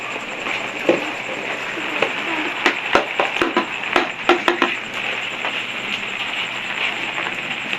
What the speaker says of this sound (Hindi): ये देखें बारिश शुरू हो गई हमारे शहर में।